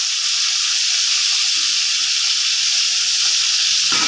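Steady, loud sizzle of meat and potatoes frying in a pan, a dense broadband hiss with a few soft stirring knocks and a brief clatter near the end.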